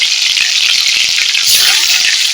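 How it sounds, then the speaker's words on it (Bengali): Meat pieces frying in hot oil in a kadai, a loud, dense, crackling sizzle that runs continuously and close up, swelling slightly partway through, with no voices over it. "তেলটা গরম হয়ে গেছে এক এক করে দিয়ে দেব একটু মাংসটাকে আমি ভেজে নেব প্রথমে"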